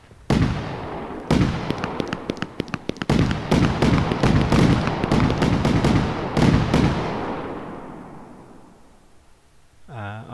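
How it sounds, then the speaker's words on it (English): Fireworks and an exploding propane tank in the Fireworks Mania game go off as a dense barrage of cracks and booms that fades into a long decaying rumble, with a brief whistling burst near the end. "I didn't expect one exploding propane tank to do this much damage."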